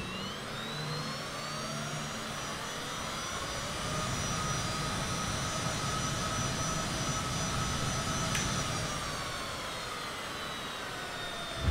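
A Microsoft Flight Simulator 2024 aircraft engine sound pack plays a steady, continuous turbine roar with layered whining tones that slowly rise and hold, loud and unbroken with no talk over it.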